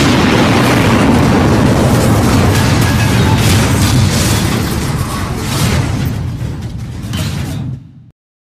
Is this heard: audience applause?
no